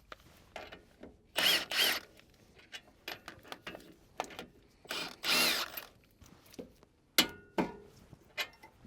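Power tool loosening 19 mm front suspension bolts on a Toyota MR2 Spyder during a coilover install, with several short whirring bursts and ratcheting clicks in a quiet garage, close and moderately loud.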